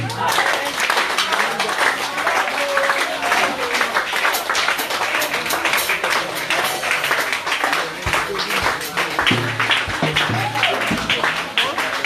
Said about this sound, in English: Just clap your hands for Jesus.